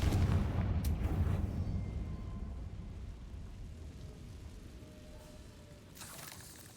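An explosion spell goes off in Hogwarts Legacy: a loud deep boom at the start that rumbles and slowly fades, with a second sharp burst near the end.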